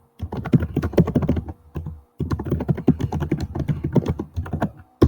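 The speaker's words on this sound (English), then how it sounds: "She's a fast typer." Fast, dense typing on a computer keyboard, close and crisp clatter of rapid keystrokes in two bursts separated by a brief pause, with no talking.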